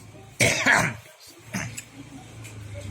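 One sharp cough rings out close up, followed by softer throat sounds and a few faint murmured noises.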